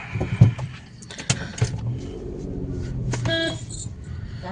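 A car pulls away with passengers aboard. A low engine rumble runs under a few sharp clatters and a short horn-like tone near the end.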